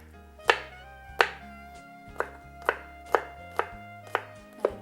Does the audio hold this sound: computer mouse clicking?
no